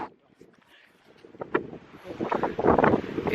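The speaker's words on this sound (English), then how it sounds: "It's windy outside today" Gusty wind buffets the microphone in rumbling bursts that grow stronger toward the end.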